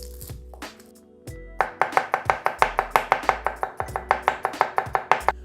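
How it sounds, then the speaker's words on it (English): A knife finely chops four garlic cloves on a board: about twenty rapid, evenly spaced crisp strokes, close and distinct, after a brief quiet start. "we're going to finely chop 4 cloves of garlic"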